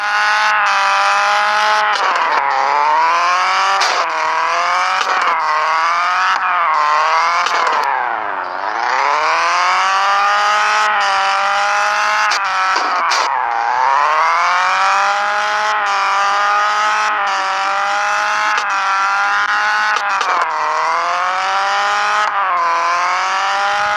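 A car engine revving hard and shifting through gears, repeatedly rising in pitch and then dropping with each change, loud and continuous with a few brief tire-like squeals and no voices.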